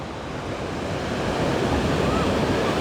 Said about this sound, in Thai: ตอนนี้คลื่นแรงนะ